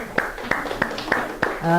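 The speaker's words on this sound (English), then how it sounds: "Give yourselves a round of applause." Audience clapping in response to a keynote speaker at a healthcare simulation conference, heard as about five crisp, evenly spaced claps close by, with a brief tonal sound at the very end.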